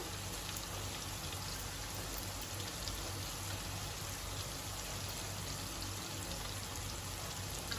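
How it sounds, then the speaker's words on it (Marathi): Turmeric, garam masala and salt sizzling with tomato in a pan while being sautéed for a fish roe (gaboli) fry, a steady close hiss like light rain, continuous and even throughout with no talking. "आता हे मसाले जाम परतून घेऊ"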